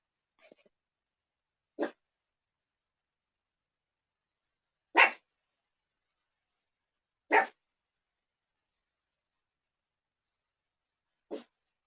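A dog gives four short, sharp barks spaced a few seconds apart, close and fairly loud against otherwise near silence, with a faint snuffle at the start.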